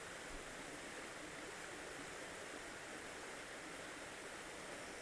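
Water rushes steadily in a continuous broad hiss as a small stream flows down from a leat into Burrator Reservoir on Dartmoor, constant and unbroken throughout.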